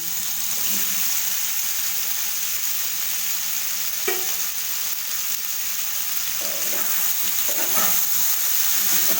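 Boiled papaya stirred with spices in a pan over low oil, a steady sizzling hiss with occasional scraping clinks of a spatula against the pan, continuous and close.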